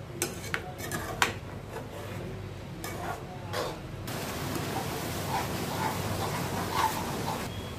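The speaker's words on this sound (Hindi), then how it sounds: "अच्छे तरीके से चलाते हुए पकाना है हमें, जिससे कि ये लौकी नीचे ना लगे" A spoon stirs a bottle gourd (lauki) barfi mixture cooking in a pan, scraping and clinking against the metal in quick taps. The strokes give way to a steady low rustling cooking noise.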